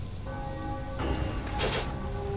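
A bell rung in Baldur's Gate II: Throne of Bhaal, a single bright chime that swells briefly and fades, heard alone against a soft game background hum.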